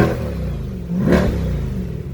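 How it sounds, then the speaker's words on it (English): A 2023 Chevrolet Corvette Stingray 3LT Z51 convertible in track mode revs once, its low engine rumble swelling briefly to a peak, then settling back to a steady idle close by. "this is how the car sounds when it's in track mode"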